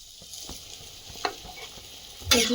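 A pot of fish and taro curry broth bubbles and simmers on the stove, with soft spattering pops and occasional stirring clinks, growing louder near the end.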